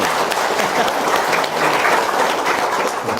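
Audience applause at an Indonesian religious talk, a steady dense clatter of many hands clapping continuously for about three seconds, loud and close with no pauses.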